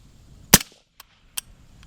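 Rifle fitted with an adjustable gas block on a low setting fires one sharp, close shot, followed by two faint mechanical clicks in otherwise quiet surroundings.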